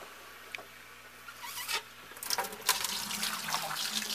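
Aquarium water running through a cheap garden hose siphon, heard as a soft, close trickle and patter that swells into a steadier gurgling flow.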